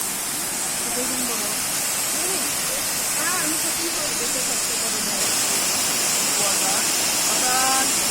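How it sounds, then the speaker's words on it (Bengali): Elephant Falls in Shillong pours as a steady, loud broadband rush of falling water, with voices talking faintly underneath the roar throughout. "ঝর্ণাটা দেখা যাচ্ছে খুব সুন্দর ঝর্ণা"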